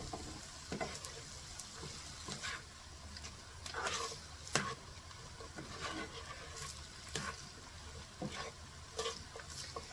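Onions and frozen vegetables fry in a pan for pineapple shrimp fried rice, a gentle continuous sizzle with intermittent scraping and tapping stirs of a utensil, close and quiet, no talking.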